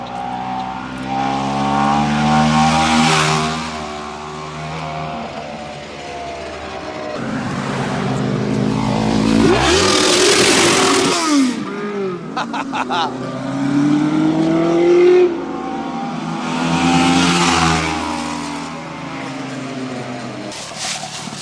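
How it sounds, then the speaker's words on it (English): A Yankee 500 twin-cylinder two-stroke motorcycle of 500 cc rides past, its engine rising and falling in revving surges, loud and close at times, then fading as the bike moves away and returns. "Twin cylinder 2-stroke, like an RD 350 on steroids. 500 cc's."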